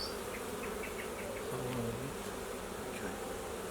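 Bees buzz steadily at a Flow Hive stocked from a package colony, a dense continuous drone from many insects close by, with faint talk in the background.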